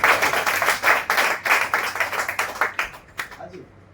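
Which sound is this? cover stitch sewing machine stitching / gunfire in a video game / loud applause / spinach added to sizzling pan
loud applause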